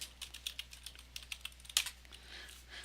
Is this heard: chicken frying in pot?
no